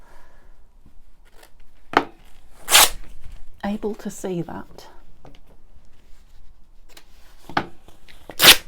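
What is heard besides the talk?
tearing paper for a journal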